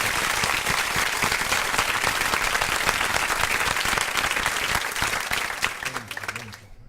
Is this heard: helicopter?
no